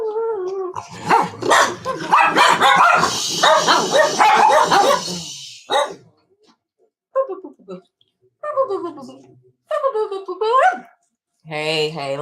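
Pet dogs give several short barks and yips at close range, broken by gaps and mixed with a woman's speech in the first half.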